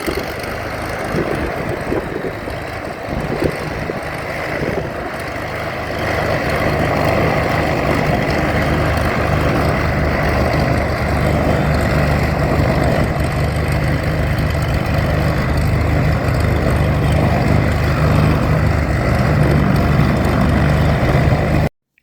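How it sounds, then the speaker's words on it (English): A parked airplane starts up its engines before takeoff, a steady loud droning hum that builds after the first few seconds and holds evenly with no voices. "starting up its engines and gonna take off soon"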